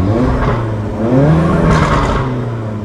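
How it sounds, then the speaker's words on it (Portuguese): A 2018 Audi TT 2.0 four-cylinder turbo with a stage 2 tune, about 300 hp, sounds off loudly and close up with a continuous engine drone, a rising turbo whistle and scattered exhaust pops and crackles. "Antes de pipocar a turbina, assovia."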